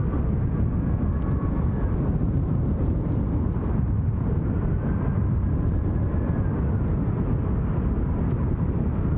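A plane taxiing toward the terminal at Glasgow International Airport gives off a steady, loud low-end engine rumble and roar, holding constant throughout with no talk.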